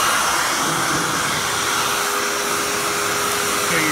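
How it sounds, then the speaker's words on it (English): A Hoover Tempo Widepath U5140-900 upright vacuum runs in tool mode, its suction a steady, loud whooshing roar close by, with no talk. "Let me show you how strong the suction is. Very powerful suction."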